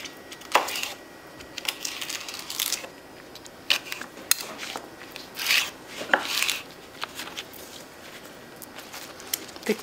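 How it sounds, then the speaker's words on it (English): A knife chops kale leaves into large pieces on a board, producing scattered close taps and rustling leaf scrapes in an uneven rhythm, moderately loud with quiet gaps between. "I just tend to chop it into biggish pieces like this"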